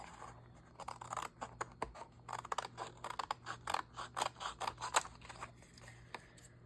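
Scissors snip repeatedly through wet reeds, a quick irregular run of close, crisp cuts with no talk.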